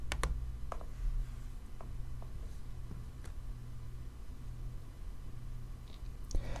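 Quiet, intermittent keystrokes on a computer keyboard while entering a first and last name into a meeting login, with a few sharper clicks scattered over a low steady background hum.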